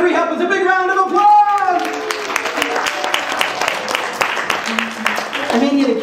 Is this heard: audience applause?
yes